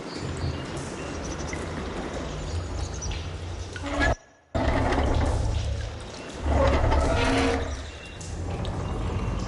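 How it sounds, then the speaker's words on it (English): Running water circulating through a room in Horizon Forbidden West after a valve is opened, a steady broadband pouring wash that cuts out briefly, then returns and swells louder, with no talk over it. "Aloy, I can hear water in the room again."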